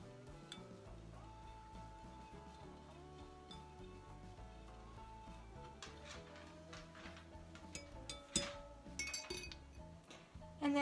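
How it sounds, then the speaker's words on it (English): A homemade natural body wash mixture gently stirred, with faint, sparse clinks of a utensil against the container over a steady low background hum, quiet and close. "you want to make sure that you gently stir it so it doesn't lather up, just so it mixes"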